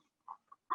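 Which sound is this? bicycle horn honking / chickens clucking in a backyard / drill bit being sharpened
chickens clucking in a backyard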